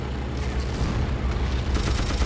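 Battlefield 1942 bazooka fire in a desert battle at Alamein: a dense, rumbling mix of gunfire and booming blasts with a sharper burst near the end, loud and continuous with no talking.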